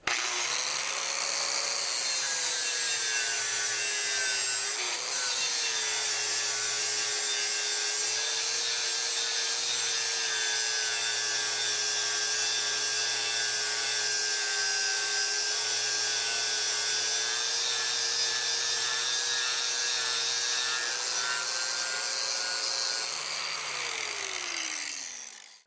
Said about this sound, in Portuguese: E agora o acabamento desse lado eu vou fazer com um disco flap de gramatura